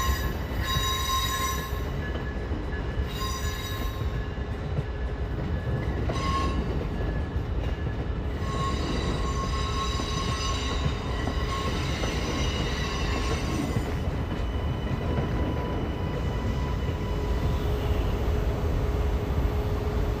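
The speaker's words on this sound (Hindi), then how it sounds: "एमट्रैक की नई ACELA ट्रेन न्यूयॉर्क के लिए उत्तर पूर्व रवाना होती है" An Amtrak Acela train pulls out of a station bound for New York, its wheels squealing in sustained high-pitched tones over a steady, loud rumble of rail noise throughout.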